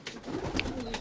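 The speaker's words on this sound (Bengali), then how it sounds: "এই দেখুন সিলেটি কামাকার পায়রা" Pigeons in a loft holding Sylheti Kamakar birds give soft, low cooing over a steady background murmur, with a brief higher chirp near the middle.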